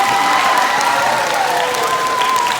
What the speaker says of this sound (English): How about one more round of applause for all of our woodwinds